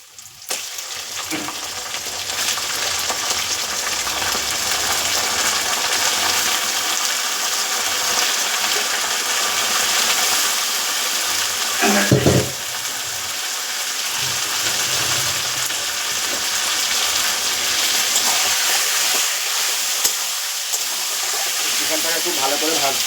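Salted chicken pieces sizzle and fry in hot spiced oil in a pan, a steady loud crackling hiss with occasional stirring, a voice talking faintly underneath.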